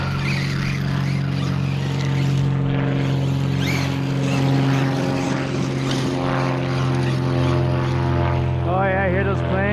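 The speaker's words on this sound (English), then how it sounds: "Oh yeah, I hear those planes." Propeller aircraft drone overhead, one towing a glider, a sustained buzzing hum that swells and fades, with people talking over it.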